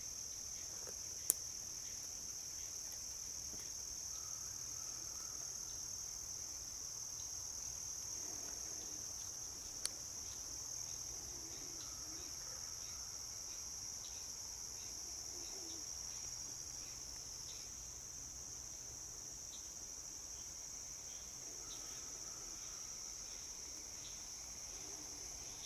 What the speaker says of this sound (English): Tree frog.